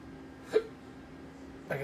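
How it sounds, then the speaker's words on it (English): Two sharp hiccups from a man, the first short and abrupt, the second coming more than a second later with a brief voiced tail, against a quiet room. "I get these weird hiccups."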